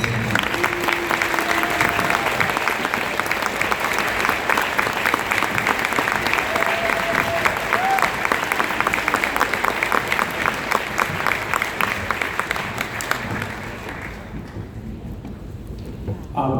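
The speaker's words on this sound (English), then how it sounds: "Steve, give a round of applause for them." Sustained applause from a town hall audience at a senator's event, a steady dense clapping that holds loud for about thirteen seconds before thinning out and fading near the end.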